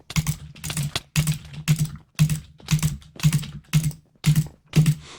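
Mouse clicks from time clicking in Minecraft Bedrock PvP, about nine sharp clicks at a steady, evenly spaced rhythm, each a close, crisp tap separated by brief silence.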